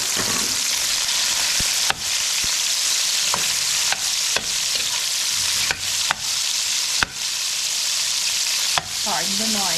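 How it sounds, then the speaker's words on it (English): Shrimp sizzle loudly as they fry with garlic in a hot pan, making a constant close hiss broken by occasional sharp clinks and scrapes of a utensil stirring them. No one speaks. "So we'll put the shrimp in this garlic for a little bit."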